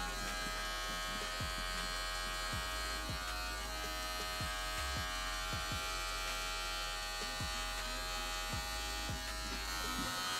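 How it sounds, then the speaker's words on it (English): Electric hair clippers buzz steadily and loudly up close while a home fade haircut is cut around the ear, a constant motor hum with occasional short clicks and shifts as the blade moves. "you're gonna just wanna use the corners of your clippers"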